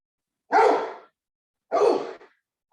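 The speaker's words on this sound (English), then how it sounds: "my dog about to start barking too" A dog barks twice, loud and close, with a short pause between the two barks.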